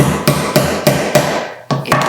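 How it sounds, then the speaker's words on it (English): Hammer blows flattening a split metal fastener on a Singer Featherweight sewing machine case, six sharp close strikes at a steady uneven rhythm, alone with no talking. "This one, if I hammer it down, I'm going to get it back on my metal part."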